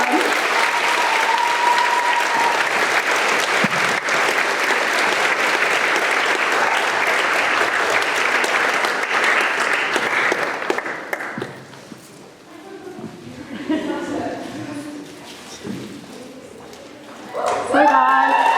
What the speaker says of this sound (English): Please can everyone give her a massive round of applause